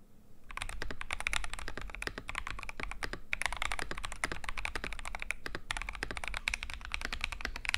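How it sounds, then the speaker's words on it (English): Fast, continuous typing on a customized red Razer mechanical keyboard, crisp clacking keystrokes close up in a quiet room with only one brief pause. "Both keyboard sounds pretty much the same"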